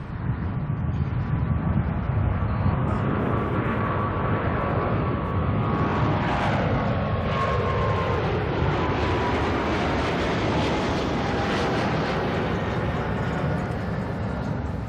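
Loud, sustained thunder of a jet aircraft taking off at Auckland Airport, with a harsh broadband roar and whining tones that sweep down in pitch as it passes and pulls away, and faint wind buffeting.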